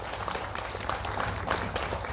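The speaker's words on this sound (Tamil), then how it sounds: "பெரிய கைத்தட்டல் கொடுத்துடலாம்." An audience at a televised Tamil show applauds, a moderate patter of many hands clapping steadily with a few louder bursts, a voice briefly audible beneath it.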